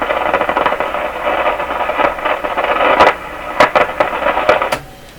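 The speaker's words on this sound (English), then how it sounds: "Just popping and clicking." A 1929 Victor RE-45 radio gives a steady crackling hum while it powers up, with several sharp pops and clicks near the end before it drops quiet.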